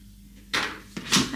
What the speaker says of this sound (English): And drawer open.